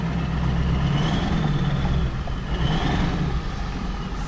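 A straight-piped Ford 7.3 PowerStroke diesel truck with the muffler deleted idles with a deep, continuous rumble, steady and close throughout with no talking.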